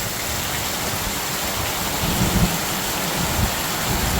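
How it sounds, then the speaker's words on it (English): Heavy rain pouring down outside, a loud, dense, continuous hiss with a few low rumbles underneath, steady throughout with no voices. "It's pouring rain outside."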